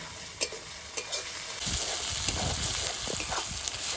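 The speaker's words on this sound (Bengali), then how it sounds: "এবার আদা রসুনটা একটু ভালো করে ভেজে নেবো" Ginger-garlic paste frying in a pan, a close, steady hiss of sizzling oil broken by a few sharp clinks and stirring knocks.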